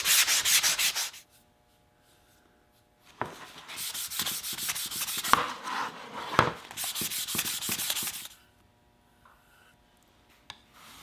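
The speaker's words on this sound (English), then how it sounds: "I finished sanding the second coat," Brisk sandpaper strokes rasp across a painted frame surface in two long bursts, with quiet pauses before and between them.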